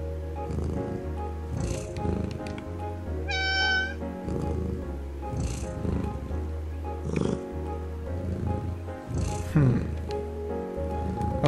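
Cat meowing in the PC game Calico, a few short mews rising over steady background music with gentle, game-style sound effects throughout.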